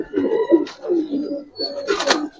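A Giribaz pigeon coos in a short series of soft throaty calls repeated about three times, close by, with a brief flutter or rustle between them.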